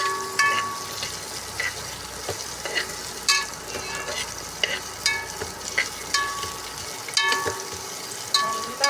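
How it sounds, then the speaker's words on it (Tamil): One kilo of chicken sautés in a pan with a continuous loud sizzle, broken by intermittent stirring scrapes and clinks. "ஒரு கிலோ சிக்கி நல்லா வதங்கணும் ஃப்ரெண்ட்ஸ்."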